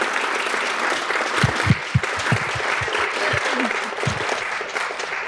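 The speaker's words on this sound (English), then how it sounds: "how about a round of applause for our legislators?" An audience at a legislative panel on immigration and federal outreach claps for legislators, steady applause with a few sharp, louder claps standing out near the front.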